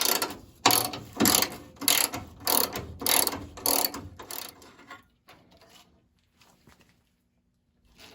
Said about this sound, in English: I'm gonna unbolt the horn real quick